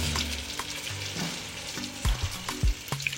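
Sfenj dough balls fry in hot oil, a continuous dense sizzle with occasional soft thumps and scraping of a utensil, close and steady with no talking.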